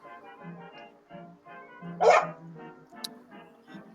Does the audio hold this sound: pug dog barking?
yes